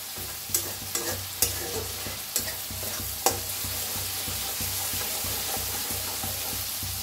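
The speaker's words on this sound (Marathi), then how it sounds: "चांगलं भाजलं की नाही फोडणी चांगली बसते आपली" Tempering frying and being stirred in a pan for sabudana khichdi with potatoes, a steady close sizzle under a run of sharp spoon-against-pan scrapes and taps, with no talk.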